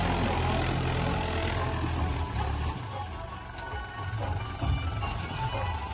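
Tractor engine running steadily during wheat sowing in a field, a loud continuous low rumble with mechanical clatter, close by and with no speech.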